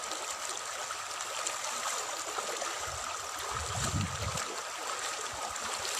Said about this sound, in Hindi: कितना ज़बरदस्त पानी है,